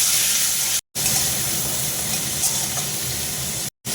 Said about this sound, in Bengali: পেঁয়াজটা আমার ভাজা ভাজা হয়ে এসছে